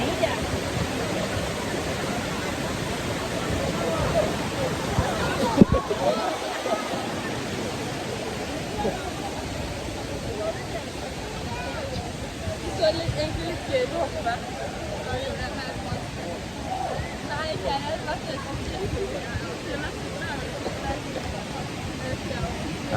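A large waterfall at Tat Kuang Si in Laos pours in a steady, dense broadband roar that holds level throughout, with one brief thump partway in.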